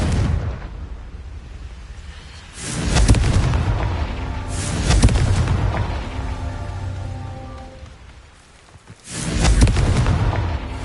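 The Confringo fire spell bursts loudly in the Hogwarts Legacy game on PS5, with three big booming blasts and rumbling tails that roll between them.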